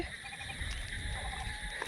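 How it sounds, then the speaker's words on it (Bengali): A dense rainy-season evening chorus of frogs and crickets in a village, steady overlapping trills and pulsing calls at moderate distance, continuous with no voices. "কত ঝিঝি পোকা ডাকছে, ব্যাঙ ডাকছে।"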